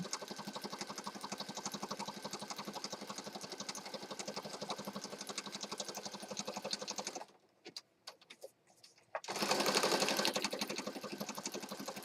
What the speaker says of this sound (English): Sewing our little ribbon tab down. Stitching, yes.